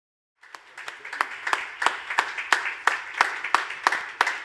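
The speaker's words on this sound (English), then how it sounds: "One final round of applause for the winner of the Emerging Business" Applause at the WCERA 2020 awards ceremony for the Emerging Business winner starts abruptly after a beat of silence and swells into steady, fairly loud clapping from an audience, with no voices over it.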